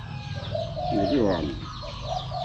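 Near a bird trap, a dove gives a single close cooing call with a voiced, wavering tone, while outdoor background noise carries on underneath.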